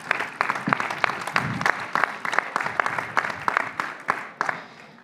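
An audience at a real estate awards ceremony applauds, steady clapping at moderate volume with individual claps standing out, continuing evenly throughout.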